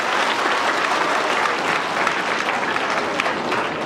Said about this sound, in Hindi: ज़ोरदार तालियों के साथ प्रिंसिपल मैम का वेलकम करें।